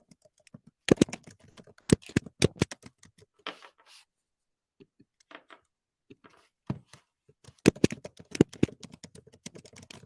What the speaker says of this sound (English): I was typing away, wasn't I?